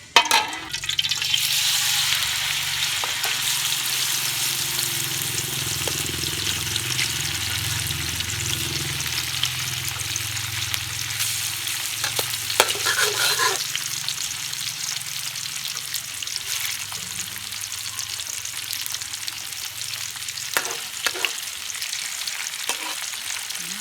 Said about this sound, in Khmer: ចាអញ្ចឹងយើងជៀនតៅហ៊ូរបស់យើងហ្នឹងឲ្យវាឆ្អិនឲ្យវារឹងសាច់ហ្នឹង